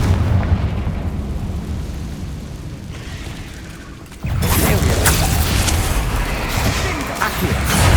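A Confringo spell blast goes off in Hogwarts Legacy, a sudden loud burst that jumps out of a quieter low rumble and then holds as a dense, roaring crackle to the end.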